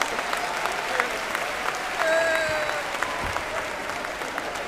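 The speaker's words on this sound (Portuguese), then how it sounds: "Um aplauso." An Assembleia de Deus church audience gives a steady, full round of applause throughout, with a faint tone drifting above the clapping partway through.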